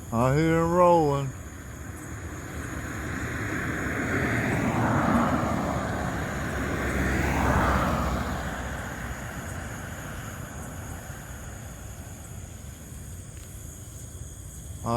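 A Loram rail grinder rolls down the main line, a broad low rumble swelling and fading in the distance with a brief harsh horn-like tone at the start, while a person talks quietly over it.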